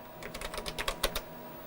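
A password typed on a computer keyboard: a quick run of about eight close, crisp key clicks in under a second, alone and fairly quiet.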